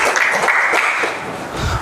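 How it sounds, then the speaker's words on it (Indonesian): Short burst of classroom applause from students, brisk clapping that thins out toward the end, fairly close and loud. "berikan tepuk tangan dulu untuk teman-teman yang sudah memberikan kesimpulan"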